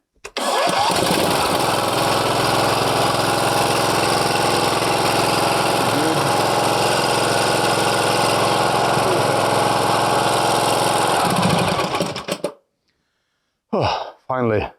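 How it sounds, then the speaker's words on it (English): A Briggs and Stratton air-cooled engine, just fitted with a repaired cooling fan, starts and runs at a loud steady roar close by for about twelve seconds before cutting off, followed by a short burst of talk. "The last check just to start the engine to see that everything is moving nicely."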